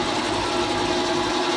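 A Leblond 19-inch lathe running at 770 RPM fills the short stretch with a loud, continuous mechanical whir and gear hum, close and unbroken, with no speech.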